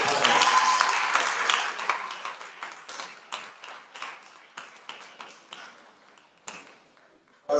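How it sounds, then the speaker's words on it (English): Symposium audience applauding a panel, a burst of clapping that quickly thins into sparse, separate claps fading over several seconds, ending with a brief louder noise. "please can you give a round of applause for the panel?"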